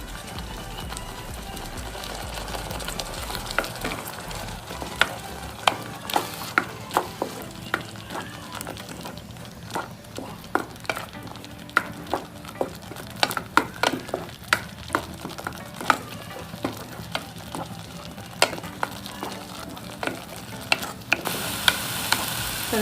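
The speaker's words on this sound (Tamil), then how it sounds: "இது பச்சையை அரைச்சங்காட்டி நல்லா வதக்கி விடுங்க" Ground green masala being stirred and sautéed in a pan for a Tamil valakkai (raw plantain) kulambu, with a soft steady sizzle under repeated sharp scrapes and taps of the spoon against the pan.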